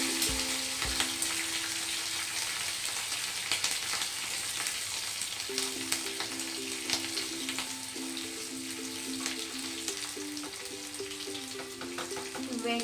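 Chana dal, cumin, mustard seeds, curry leaves and green chillies fry in hot oil for tempering, a steady close sizzle and crackle that runs without pause, with faint stirring and a low background tone.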